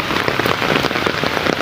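Heavy rain pours steadily outside during a flood, a dense, continuous hiss of drops drumming on surfaces, loud and unbroken with no voices.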